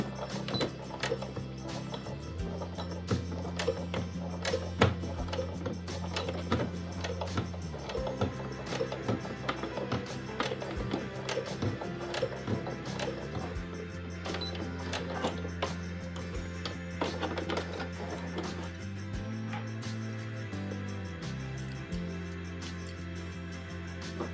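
A sewing machine stitches a round handbag made of cord, its motor whirring in steady runs and pausing briefly between them, with needle clatter ticking rapidly throughout at a moderate, close level and no speech.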